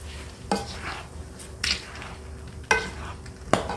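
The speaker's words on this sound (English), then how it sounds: "Cranberries popping on an open fire." Cranberries cooking in a pot over an open fire, with four sharp isolated pops spaced about a second apart over a soft low simmer, no voices.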